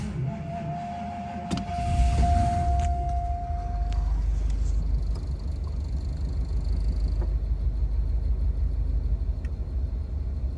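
A 1983 Ford Crown Victoria with a 10-year-old battery: a steady whine runs for a few seconds, then the engine catches and settles into a loud, continuous low rumble.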